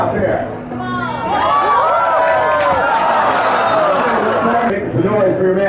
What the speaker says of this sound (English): Cheer them on out there.